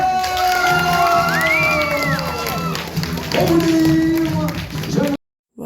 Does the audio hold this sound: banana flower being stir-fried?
no